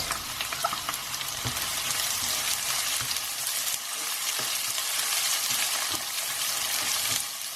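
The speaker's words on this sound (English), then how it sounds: "we're going to saute these onions till they turn translucent" Diced onions sautéing in a pan with garlic paste and dried chillies for a cauliflower pepper masala, a loud continuous hiss of frying oil with occasional stirring knocks throughout, without any voices.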